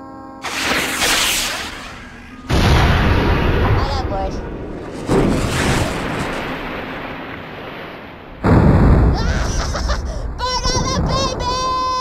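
Remotely set explosives in the video game Borderlands 2 go off in a string of heavy booming blasts with rumbling debris, each followed by decay, under game music and someone talking.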